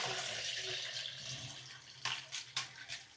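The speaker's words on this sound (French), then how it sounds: "le dernier rinçage que je vais faire avec de l'eau tiède" Lukewarm water poured over a plant pot to rinse it, a soft running splash that thins out, followed by a few sharper splashing bursts near the end, fairly quiet.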